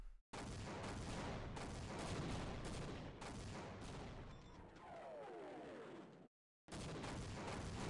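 Sustained rapid gunfire in the video game Half-Life, loud and dense bursts filling most of the stretch, then a brief silent gap before the shooting resumes.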